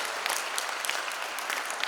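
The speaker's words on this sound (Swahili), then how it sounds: "Makofi kwake." A church congregation at a Catholic mass in Ngong claps in a brief burst of dense, steady applause, fairly faint and without any talking over it.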